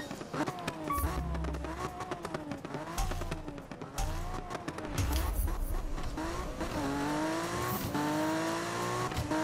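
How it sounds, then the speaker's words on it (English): Need for Speed 2015 game audio of a car doing a burnout, with a loud revving engine whose pitch climbs and drops through repeated upshifts, steady tire squeal and a deep rumble, close and continuous. "And you try to fill the burnout meter perfectly"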